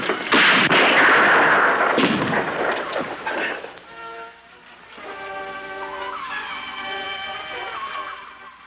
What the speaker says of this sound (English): We heard the shots.